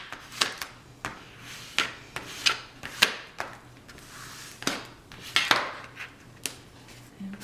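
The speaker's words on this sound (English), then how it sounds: "Put that down, burnish it." Paper burnished onto a handmade twist-and-pop card, a series of sharp rubbing scrapes in an irregular rhythm about every half second, close and moderately loud.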